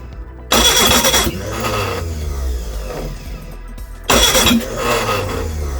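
A Reliant Regal Supervan engine is cranked on choke twice, each attempt a loud burst of starter whine and sputtering catch that settles into a rough, uneven idle, close and with no talk.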